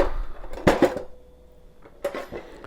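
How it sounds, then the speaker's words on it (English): Two spatulas and a table knife grabbed in a kitchen during meatloaf preparation, giving a couple of brief metallic clinks and clatters near the start and again toward the end, with quiet pauses between. "2 spatulas and just a table knife"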